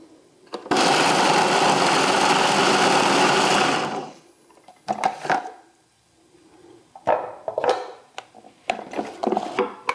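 A kitchen machine blends sunflower seed spread in one loud, steady whir lasting about three seconds. It stops abruptly and is followed by scattered knocks and clatters of the container.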